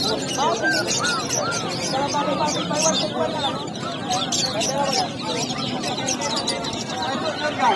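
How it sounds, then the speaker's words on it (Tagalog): Many caged birds at a pet market chirp and tweet in overlapping, busy bursts, with cooing pigeons or doves mixed in. Crowd babble and nearby voices talk beneath the constant birdsong. "Ay, daming ibon din dito guys. Ayan mga ibon."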